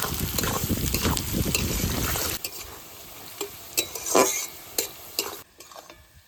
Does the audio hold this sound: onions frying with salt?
yes